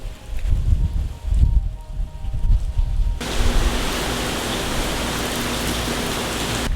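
Hurricane Ian wind and rain outdoors in a Central Florida driveway, first gusty rumbling wind and then a loud, steady wash of heavy rain that continues without a break.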